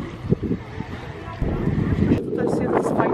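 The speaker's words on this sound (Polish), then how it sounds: "Jeżeli mnie będzie słychać przez ten wiatr." Strong wind gusting across the microphone on the Gdynia seafront, a broad rushing roar that surges midway, with a voice speaking through it.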